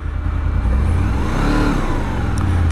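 Engine of a 2002 Honda VFR800 motorcycle pulling hard on the road, a steady loud droning growl with rising pitch as it accelerates, close and continuous with wind rush throughout.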